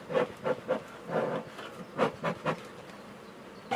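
Honey bees buzzing around a hive while a newly introduced mated F1 queen is checked, with several short swelling bursts of buzzing close by over a quieter droning background.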